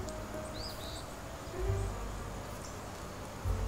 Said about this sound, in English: This hive is packed with bees.